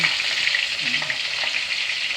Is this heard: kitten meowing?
no